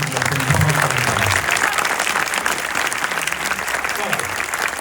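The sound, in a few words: audience applauding the jury at a film premiere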